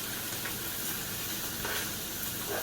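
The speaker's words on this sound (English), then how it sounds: "throw in the Spam. Now we want to get this nice and browned on the outside" Spam browning in a hot pan for fried rice makes a steady, dense sizzle with faint crackles throughout, close and fairly quiet, with no one speaking.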